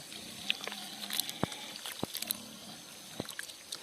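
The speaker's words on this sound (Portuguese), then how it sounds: "Vou botar mais água ainda." Water trickles and pours into a bucket of pig feed on a farm, a quiet, close dribbling and splashing with a few sharper clicks and knocks scattered through it.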